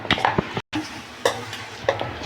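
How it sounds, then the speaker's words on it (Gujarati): Vada pav batter of ready-bought flour stirred with a spoon in a bowl, giving repeated close scraping and swishing strokes with small clinks and a brief gap, no voices. "જો આ રીતે પ્રોપર મિક્સ કરી નાખવાનું, હલાવી નાખવાનું."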